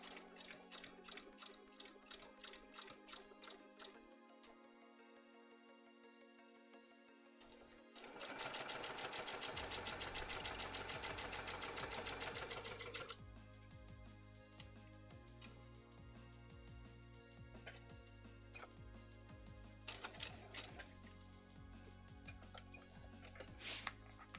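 A sewing machine quilting fabric runs in bursts of rapid mechanical stitching, a loud sustained whirring run in the middle, with quieter ticking stretches before and after.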